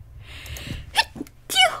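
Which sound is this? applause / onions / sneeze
sneeze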